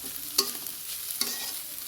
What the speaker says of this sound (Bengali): শুটকি দিয়ে এখন লাল লাল করে ভেজে নেওয়া হবে